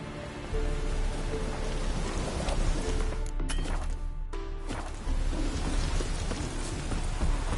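Steady rain falling in The Witcher III: Wild Hunt, a dense continuous hiss of drops on surfaces with a short dip midway, close and even throughout, no talking.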